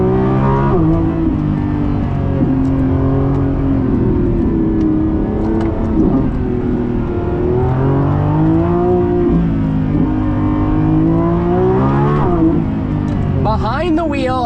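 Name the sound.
Lamborghini Revuelto launch control acceleration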